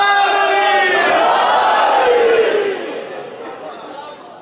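A large crowd at a religious majlis in Lahore roars a loud unified chanted slogan, voices rising and sliding together before trailing off into fading crowd noise.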